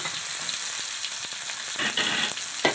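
Mixed goat brain sizzles in hot oil in a kadai on a low flame, making a loud continuous crackle with a few sharper spatters and stirring scrapes, and nobody speaks.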